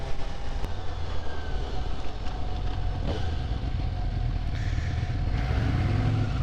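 A Suzuki GSX-S750 motorcycle being ridden, a steady, loud engine drone mixed with wind and road rumble that holds throughout, with no talking.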